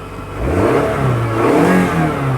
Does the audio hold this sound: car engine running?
yes